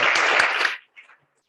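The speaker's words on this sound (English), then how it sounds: "Let's give them another round of applause." Applause from the audience at a Rotary Club of Oakland meeting, a loud burst of clapping that cuts off abruptly, followed by a few faint trailing claps.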